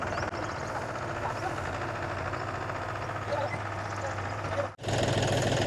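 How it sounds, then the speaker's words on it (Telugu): A tractor engine crosses the ridges between paddy fields, a steady mid-pitched diesel rumble that holds throughout and briefly cuts out near the end before resuming, close and loud. "ఒడ్ల నుంచి జాగ్రత్తగా ట్రాక్టర్ అయితే క్యారీ చేయాలి"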